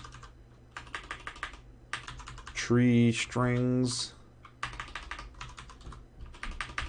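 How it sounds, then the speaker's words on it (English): Bursts of close computer keyboard typing with rapid key clicks, broken up by a person speaking and a brief tonal sound in the middle. "I'm having a hard time typing."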